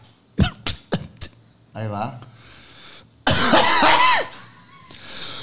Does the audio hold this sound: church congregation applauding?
no